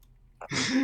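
A single person sneezes, a quick inhaled catch followed by a sharp, explosive burst, close and brief.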